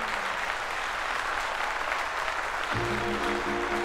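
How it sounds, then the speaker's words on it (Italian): Studio audience applause after two men are introduced on an Italian show, a steady dense wash of clapping throughout, with a bright musical sting entering near the end. "un applauso!"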